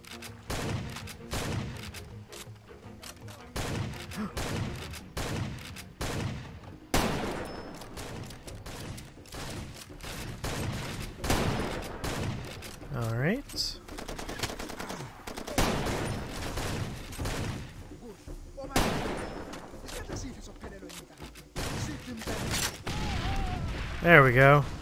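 Gunfire in the open-world shooter Far Cry 2, with repeated bursts of shots and louder booming blasts scattered across a long battle, mixed with other in-game effects and under intermittent talking.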